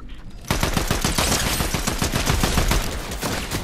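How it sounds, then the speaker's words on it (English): Rapid video-game gunfire aimed at the player, a loud, dense burst of automatic shots starting after a brief moment and continuing steadily to the end. "Matt, we're getting shot."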